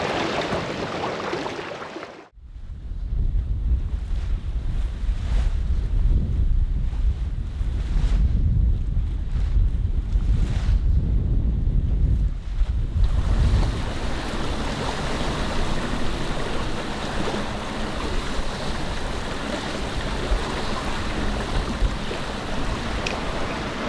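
A sailboat under way alone on the Øresund, with loud, steady wind buffeting the microphone and the rush of water and waves against the hull running continuously after a brief quiet start.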